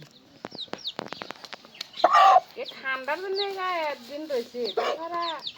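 A very large broiler rooster of about 10 kg clucks close by in a series of short, repeated calls and longer drawn-out squawks, with a person speaking briefly nearby.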